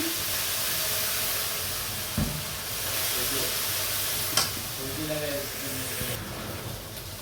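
Ginger and garlic hit frying onions in a pan for a Bengali fish curry, giving a steady close sizzle with a couple of sharp clinks and stirring scrapes.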